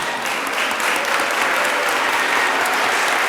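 An audience at a gubernatorial candidates forum on women's issues breaks into full, sustained applause, dense and even throughout.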